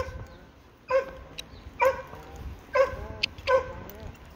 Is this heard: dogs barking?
yes